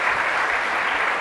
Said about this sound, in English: how about a round of applause for the venue?